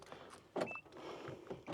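Keyless entry unlocking the door of a 2024 Nissan Navara Warrior pickup, heard as a few soft mechanical clunks with a brief thin electronic tone near the start, fairly close and quiet.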